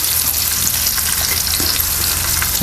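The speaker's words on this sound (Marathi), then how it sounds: "हे बाजू सुद्धा आपल्याला चांगलं असं आहे ना तळून घ्यायचं" Semolina-coated fish pieces shallow-frying in hot oil, a loud, steady, dense sizzle filling the whole stretch with faint crackles and no voices.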